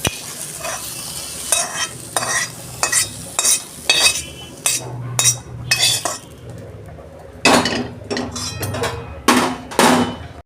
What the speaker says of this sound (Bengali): বেগুন আমার ভাজা হয়ে গেছে, আমি ঢেলে ফেলছি।